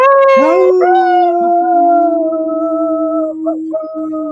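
Wolves howl in a long, loud, close cry that rises at first, then holds steady for several seconds before breaking into shorter wavering notes near the end.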